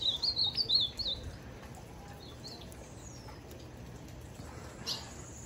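Blue-black grosbeak (azulão) singing, likely a caged bird: a short series of clear whistled notes at moderate distance, then mostly quiet background with one faint note near the end.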